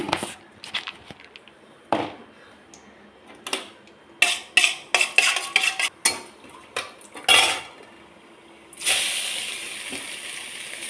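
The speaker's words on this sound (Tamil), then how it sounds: "இப்படி இதிலே கேரட்டை போட்டு நான் மிக்ஸ் பண்ணிடுவேன், வதக்கிடுவேன்." Grated carrots are stirred and sautéed in a pan, with scattered metal spoon scrapes and clinks against the pan in short bursts, then a steady hiss of frying near the end.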